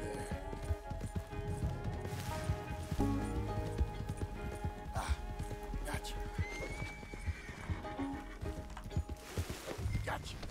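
Horse hooves clip-clop through a busy Red Dead Redemption 2 game scene, with whinnies and speech-like sounds mixed in and a steady, dense bed of other game audio throughout.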